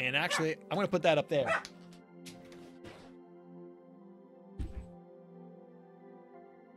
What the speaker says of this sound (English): that was my dog. My dog was getting a little excited.